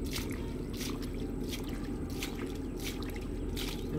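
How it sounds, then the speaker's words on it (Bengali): Water trickles and drains away steadily outdoors, a continuous low gurgling wash dotted with small drips and splashes, fairly faint and with no voices. "যাচ্ছে পানি।"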